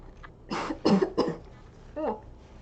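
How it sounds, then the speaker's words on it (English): Three quick harsh coughs in a burst, followed after a pause by a short voiced throat sound, close to the microphone. "I'm coughing all of a sudden."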